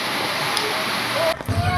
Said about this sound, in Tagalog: patuloy pa pong lumalaki o tumataas yung tubig ilog